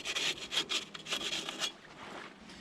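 Emery cloth rubbed by hand over the flange of a 1967 Toyota Corona RT40 under restoration gives quick, close, dry scraping strokes in an irregular rhythm, then a softer, fainter rub at the end.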